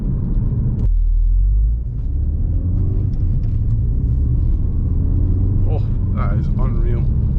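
A modified Ford Focus RS drives with a deep, steady engine rumble and road noise close by throughout, a sharp burst near the start, while someone speaks excitedly over it.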